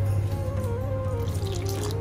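Water runs from a tap into a bowl of ground moong daal batter, a steady close trickling stream with a constant low hum behind it.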